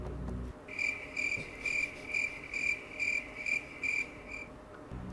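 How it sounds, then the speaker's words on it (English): Cricket chirps ring out in a steady rhythm of about eight short, bright pulses, clear and close against a quiet background, with no talk. "So, editor, you can put that cricket sound there."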